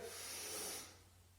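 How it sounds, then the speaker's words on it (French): During a bamboo-stick exercise session, a person takes a deep, airy inhalation that swells to a peak, then holds, leaving near-silence; close and soft. "Côté gauche, j'inspire, je bloque et j'expire."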